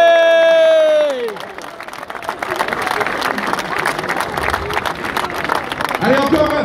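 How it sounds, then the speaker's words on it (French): A crowd outdoors on a town hall square in Martigues, France claps and cheers to celebrate a football club's promotion to Ligue 2, a broad wash of applause rising after an amplified announcer's voice fades, with scattered shouts throughout. "encore un tonnerre d'applaudissements, s'il vous plaît"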